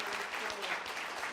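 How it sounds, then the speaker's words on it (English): An audience at a gathering applauds, a dense, steady burst of many hands clapping at moderate loudness, with voices faintly mixed in. "give me a round of applause"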